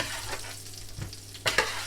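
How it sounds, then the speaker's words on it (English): Soft sizzling of vegetables in hot oil, with a few stirring scrapes and a brief louder clatter near the end; no talking. "Good sizzle."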